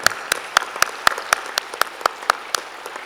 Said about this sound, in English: I would like to have a big round of applause for ITF and the team.